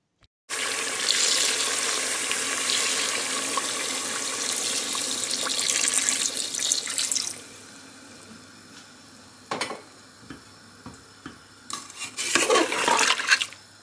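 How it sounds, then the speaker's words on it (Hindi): Water pours into a hot pot of fried mutton for nihari, a loud steady rushing and sizzling stream for several seconds, then stopping, followed by scattered clinks and stirring sounds of the pot. "4 कप पानी डाल देंगे।"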